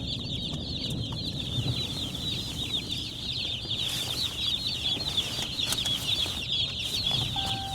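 A dense chorus of roughly 275 baby meat chicks peeping continuously, high and shrill, close by in a vehicle over a low rumbling hum.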